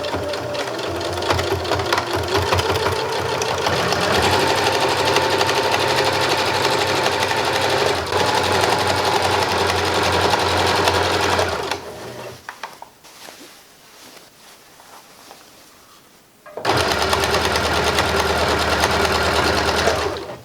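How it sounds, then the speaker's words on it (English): A sewing machine stitches around the shoulder seam of a reversible shoulder bag, running in a loud, steady whirring burst, pausing for a few quiet seconds while the work is adjusted, then starting again at full speed. "Just stitch in about 1/8 of an inch all the way around."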